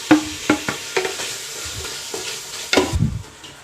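Tomato frying with ginger garlic paste in a pan, a steady sizzle punctuated by several close scraping strokes of a spoon stirring against the metal, with no talk.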